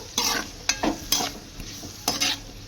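Andhra-style chicken pieces fry in a pan while a spatula stirs them in about five distinct scraping strokes over a low continuous sizzle, close and clear.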